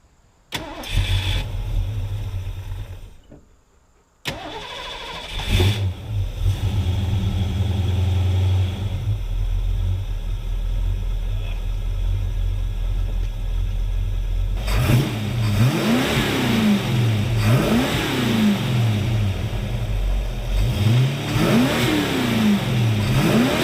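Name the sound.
Ford LTD Fox Body 5.0 V8 engine starting and revving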